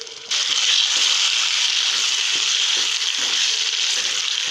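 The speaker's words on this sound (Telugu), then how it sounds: "ఈ పేస్ట్ని బాగా కలిపించుకుందాం" Tomato paste with chili powder, turmeric and salt is stirred in a pan, giving a loud, continuous wet scraping hiss with faint rhythmic knocks from the spoon, steady throughout after a brief quiet start.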